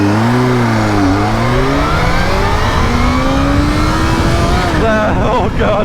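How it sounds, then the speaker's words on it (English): A Kawasaki Z H2 motorcycle accelerates hard from 0 to 60, its engine loud and close as the revs climb steadily through the gears, with a shift near the end. "First run, warm up, 0 to 60, ZH2, here we go."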